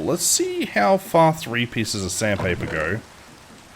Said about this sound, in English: I am so sorry that the rain is so loud.